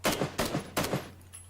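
Three loud gunshots ring out in a video game, evenly spaced about a third of a second apart, each with a short sharp crack and a quick decay, followed by faint clicks and no talking.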